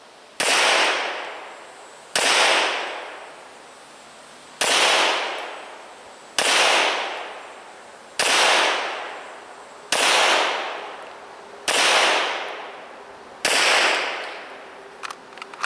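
Eight evenly spaced gunshots from a Smith & Wesson M&P 9mm pistol firing 147 grain ammunition at an outdoor range, each a sharp loud crack with a long fading echo, roughly two seconds apart, with no voices.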